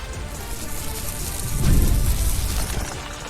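Steady rain hisses loudly and evenly on a surface, swelling briefly in the middle with a low rumble, no voices over it.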